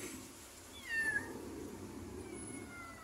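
Rescued abandoned cats: one distinct rising meow sounds close by about a second in, with fainter meows following over a low background hum.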